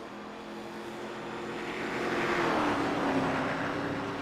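A race car coasting on track at Charlotte Motor Speedway during an ARCA Series race, engine hum swelling gradually as it passes at a distance, a smooth droning whoosh without revving.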